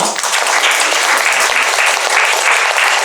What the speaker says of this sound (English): Please, let's give Dr. Patel a round of applause.